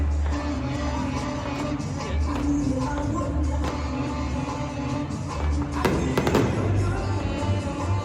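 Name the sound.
fireworks after a Georgia Bulldogs game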